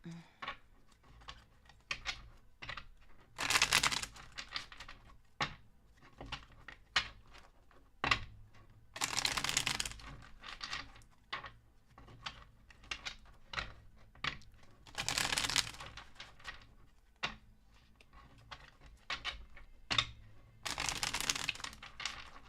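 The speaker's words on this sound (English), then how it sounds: "Let me shuffle these." Tarot cards are shuffled by hand in a quiet room, with four loud riffling bursts spaced several seconds apart and softer taps and slides of cards in between.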